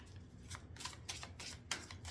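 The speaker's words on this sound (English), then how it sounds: "gonna get these shuffled up really good" Tarot cards are shuffled by hand, a soft riffling in several quick bursts, quiet and close with no talk.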